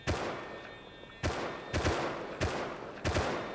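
Gunfire in a video game, a series of about five sharp, loud shots coming in uneven bursts roughly half a second to a second apart, each with a short crackling tail, with no voices.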